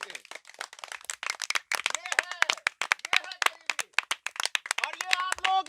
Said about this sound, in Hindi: इन नेताओं को कान तक आवाज सुनाओ एक बार ताली बजा करके।